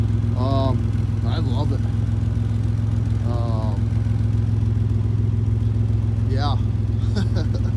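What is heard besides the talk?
vehicle engine running without a muffler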